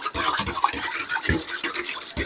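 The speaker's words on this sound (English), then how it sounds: "And then I'm just going to mix that up. I'm going to use my Danish dough whisk here." A Danish dough whisk mixes bread stick dough with salt in a bowl, making soft, irregular scraping and thudding strokes close by, with several quick stirring pulses over a couple of seconds.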